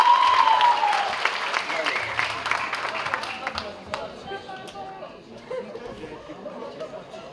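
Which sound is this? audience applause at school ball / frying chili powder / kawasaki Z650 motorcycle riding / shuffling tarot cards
audience applause at school ball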